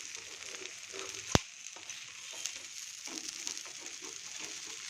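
A dosa fries in oil on a pan, giving a steady, soft sizzle and crackle throughout, with one sharp click partway through and no talking.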